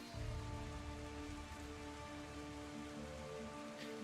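Steady rain patters as ambience in a tabletop Pathfinder 2e session near a choppy lake below a waterfall, a faint, even hiss of drops with a low background hum, no voices.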